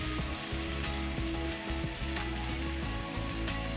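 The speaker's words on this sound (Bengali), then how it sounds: "এবারে ওই সিদ্ধ ঝোল এবং ভাজা মাছটা আমি ফোড়নের ওপর দিয়ে দিলাম" Boiled gravy and fried rui fish poured onto hot oil tempering with green chillies, giving a steady, loud sizzle and bubbling simmer that runs throughout with no voices.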